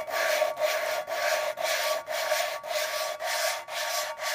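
An engine valve lapped against its seat by twisting a stick back and forth, a close, rhythmic hollow grating in about nine even strokes, each separated by a brief pause, with no voice.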